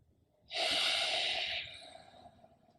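A yoga student holding a pose takes one long, strong breath, a close, breathy rush that lasts about a second and then tails off into quieter air.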